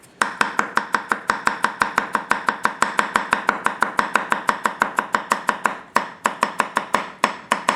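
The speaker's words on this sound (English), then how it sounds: "A little more chopping, do a pinch grip on it." Rapid, steady chopping of celery with a Yamashin White #1 210mm gyuto knife held in a pinch grip, each crisp blade strike hitting the cutting board in an even rhythm, close and loud with a brief pause near the end.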